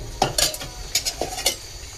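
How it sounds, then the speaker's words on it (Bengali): Hilsa fish goes into a hot pan with cooked green banana, sizzling softly under a few quick scraping and clinking strokes of a spoon or spatula against the pan, with no talking. "এখন তো মাছটি দিয়ে দিই।"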